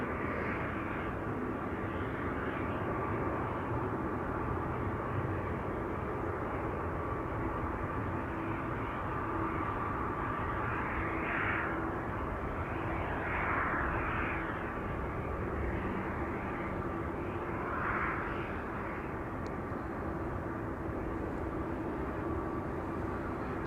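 Jet airliner landing on runway 24 Kaagbaan at Amsterdam Schiphol, a steady broadband engine roar held at a constant loudness throughout, with faint passing whines rising briefly midway.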